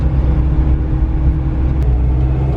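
A first-generation Toyota 4Runner engine holds a steady 2000 rpm, a loud, even low rumble with a constant hum and no change in pitch across the short stretch.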